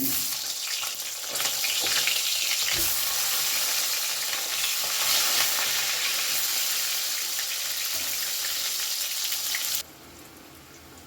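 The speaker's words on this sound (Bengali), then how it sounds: "বেগুনও ভাজা হয়ে গেছে" Cut eggplant frying in oil for Bengali chhyachra: a loud, steady hissing sizzle with occasional stirring knocks that drops off sharply to a quieter hum near the end.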